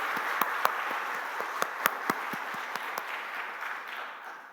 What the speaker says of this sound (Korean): 박수로 한번 더 축복하면서